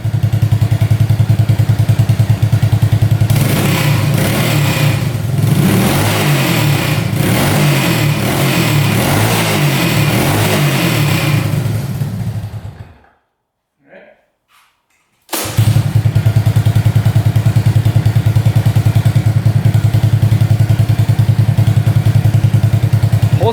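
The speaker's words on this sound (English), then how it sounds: "what we're going to do is rev this up a couple times, turn it off, and see if it starts right back up." A three wheeler's small engine idles loudly and close, revs in a run of rises, then shuts off into near silence before being pull-started and idling again steadily.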